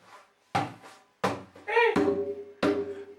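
Djembe strokes alternate two deep, booming bass hits with two sharper, higher ringing tone slaps in a steady pattern, with a brief bit of talking mixed in.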